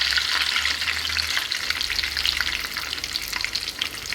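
Egg cutlets fry in hot oil with a continuous, close crackling sizzle that stays even from start to finish, no one speaking.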